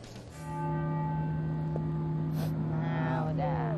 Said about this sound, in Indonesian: lonceng berbunyi kok lama sekali tadi ini gereja tua ini